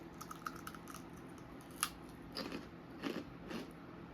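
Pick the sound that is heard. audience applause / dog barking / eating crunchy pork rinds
eating crunchy pork rinds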